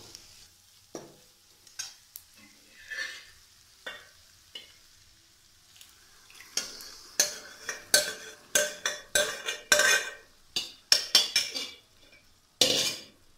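Boiled whole black masoor dal is stirred in a pan over a low flame. A spoon scrapes and clinks against the metal in irregular strokes that speed up toward the end, over a soft sizzle with no talking.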